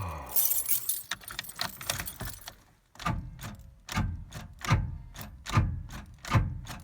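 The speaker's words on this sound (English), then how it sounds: "Oh, keys are in my pocket." Keys jangle as they are pulled from a pocket inside a vehicle in the dark, a cluster of bright metallic rattles followed by several separate clinks, close and fairly loud with no talking.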